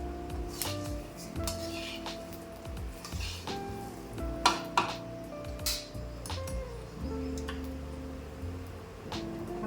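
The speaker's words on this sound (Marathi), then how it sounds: "धन भाजत आलं आपलं बघा चटचट आवाज करत आहे" Coriander seeds dry roasting in a pan for Kolhapuri masala crackle and pop in scattered sharp snaps, with occasional clinks of stirring over a steady low background hum.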